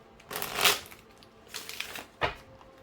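Tarot cards are shuffled in three quick riffling bursts, crisp and close, with short pauses between them and no talking.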